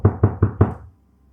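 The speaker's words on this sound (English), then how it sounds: "a sudden knock at the hotel door interrupted the eerie silence" Four quick, evenly spaced knocks land on a hotel door, loud and close, followed by a short fading silence.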